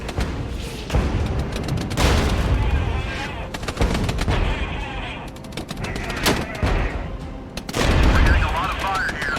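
Dense gunfire and heavy booms fill a Regiments battle, with rapid cracks, machine-gun bursts and larger blasts layered over rumbling combat noise while a voice talks over the fighting.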